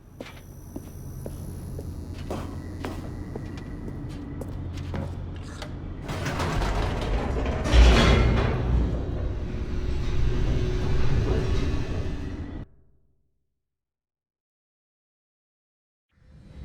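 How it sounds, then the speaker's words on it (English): An elevator in the video game The Stanley Parable descends with a steady mechanical rumble and clanking, rising to a louder grinding surge midway before cutting off abruptly into silence, with a faint sound returning at the very end. "The elevator raced downward, plummeting towards an unknown fate."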